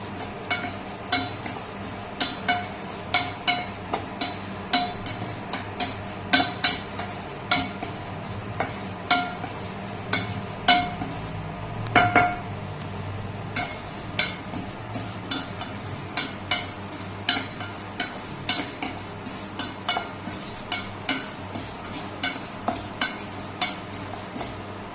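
A dessert mixture fries in a pan while being stirred: repeated sharp scraping and clinks of a utensil against the pan over a soft sizzle, steady and close, with no talk.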